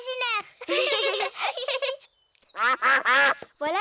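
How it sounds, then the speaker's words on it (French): Cartoon ducks quack in bright, nasal bursts at a picnic in the mountains, a quick chattering run followed by a second volley after a short pause, loud and close with no talk over it. "ce sont les canards"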